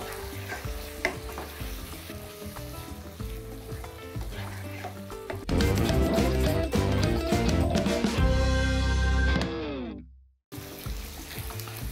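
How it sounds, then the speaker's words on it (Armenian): Rice frying in a pan over vegetables with sauce, turned with a utensil: soft sizzle and stirring at first, then a louder burst of bubbling and scraping that cuts off abruptly before resuming quietly. "Տակնու վրա ենք անում, 2 րոպե տապակում ենք, որպեսզի բրինձը իր մեջ առնի առաջացած սոուսը"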